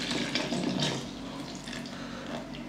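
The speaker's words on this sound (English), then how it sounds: "I can add the rest of the water" Water pours into a blended chicken cough remedy, a close, steady splashing flow that eases off partway through, with no voices.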